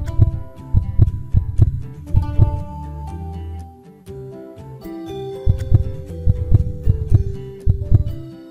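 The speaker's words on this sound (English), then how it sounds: "Mother heartbeat is normal. Baby heartbeat is normal." Simulated heartbeat of a mother and baby in a Frozen-themed pregnancy video game, repeating thumping beats in regular clusters over a soft musical hum, no talking.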